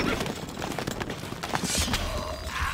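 Hooves gallop in the medieval strategy game Stronghold Crusader, a moderately loud running clatter under game voice and ambient sound effects.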